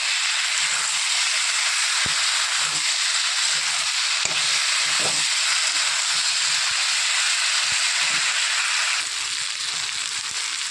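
Ginger garlic paste sizzles steadily in a hot pan while being sautéed, a continuous loud hiss with faint clatters of stirring underneath, no voices.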